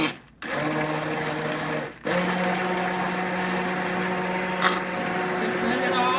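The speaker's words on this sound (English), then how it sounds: "if you do have the stick blender," A stick blender whirs steadily through a pot of hot tomato bisque, cutting out twice and restarting, a loud close motor hum with a faint voice underneath.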